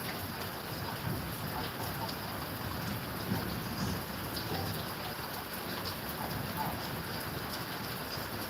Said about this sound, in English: So the rain is about to go down.